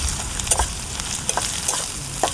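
Onions with ginger paste fry in hot oil, a dense close sizzle broken by scraping stirs and light clinks of the spoon.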